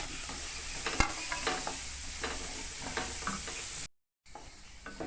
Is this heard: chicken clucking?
no